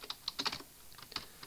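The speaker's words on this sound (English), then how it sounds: "I cannot type, I hate this keyboard." Quick bursts of typing on a computer keyboard, a dozen or so light clicky keystrokes in uneven clusters, close and fairly quiet with no talking.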